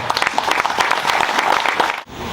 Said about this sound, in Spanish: vamos a darnos nosotros mismos un fuerte, afectuoso aplauso